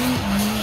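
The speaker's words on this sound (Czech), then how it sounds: "Teď si Kuba pěkně přes brzdu podržel to svoje auto na tom místě, na kterém chce." A race car brakes hard into a tight hairpin, its tires skidding in a loud, sustained squeal over engine noise for under a second, heard close and without speech.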